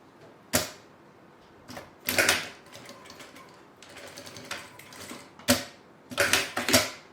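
A sewing machine stitching a backstitch along the edge of a bag strap, running in short, loud, rattling bursts separated by quiet pauses, close by with no talking.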